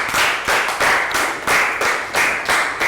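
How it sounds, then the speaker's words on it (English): Children in a Year 3 English class clap together in a few rhythmic bursts of roughly half a second each, loud and close, with no talking over them. "Big round of applause for Bangpon"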